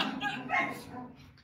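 A strained, choking dog whimpers and gives short yipping barks, fairly close, mixed with people talking over it.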